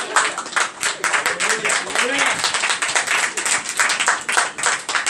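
A church congregation claps hard and fast in an uneven crowd rhythm, loud sharp bursts throughout, with voices talking over the clapping.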